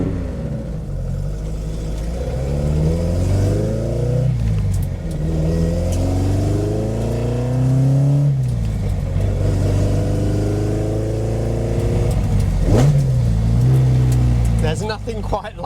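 An Alfa Romeo GTAm, a 105-series racing coupe, fires up and revs hard, its loud engine climbing and dropping through repeated throttle blips for about fifteen seconds, close up and alone.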